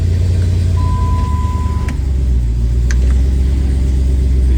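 A Jeep JK with a Hemi engine idles loudly and close by, a steady low rumble that holds even throughout with no talk over it.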